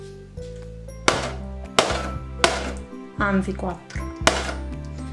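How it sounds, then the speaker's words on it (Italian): A knife punches holes in taut cling film stretched over a bowl: several sharp, separate taps and thuds spaced about a second apart, with a person talking between them. "Adesso con un coltello vado a creare 3 fori,"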